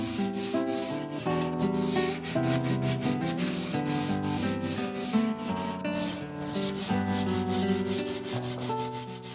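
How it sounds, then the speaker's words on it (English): A carved wooden paddle is hand-sanded with 120- and 220-grit sandpaper. Steady, rhythmic rubbing strokes continue throughout under a bed of background music. "sand it again with 120 and 220 grit sandpaper."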